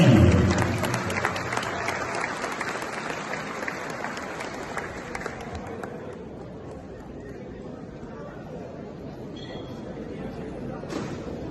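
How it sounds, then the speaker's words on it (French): Audience at a university gathering in Limonade, Haiti claps and cheers in a dense burst that starts loud and gradually fades to scattered clapping and murmuring voices. "Je vous demande de l'applaudir, s'il vous plaît, dans cette ligne-là"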